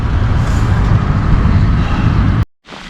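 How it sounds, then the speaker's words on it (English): Heavy rain at a lake where trout are being fished produces a dense, steady roar close by. It cuts out abruptly near the end, then returns more faintly. "It's still raining."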